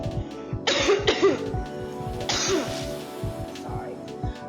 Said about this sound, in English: Dry mouth make you cough.